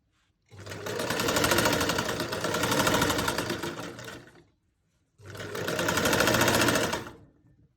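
A sewing machine stitches an armhole seam on a garment in two sustained, steady runs. Each run lasts a few seconds, with a short silent pause between them. The machine is loud and close, and no one talks.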